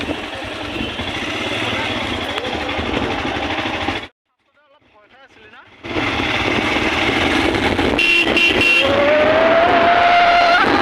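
A Royal Enfield Hunter 350 motorcycle on a test drive, its engine running with a steady rumble and wind rush, cutting out to near silence for a couple of seconds before picking up again and climbing in pitch.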